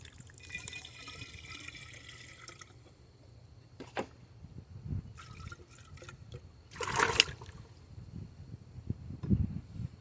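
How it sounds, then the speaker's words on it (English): Water being mixed with morel mushroom spores in a jar, with splashing, sloshing and a gurgling pour in irregular bursts, nearby and without talk. "Mix in the jar real well to get all those spores out"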